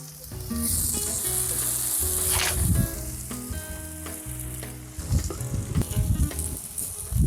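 Garlic cloves sizzle in butter in a pan, a steady close hiss with scraping stirs and clinks of a utensil against the pan, louder bursts toward the end.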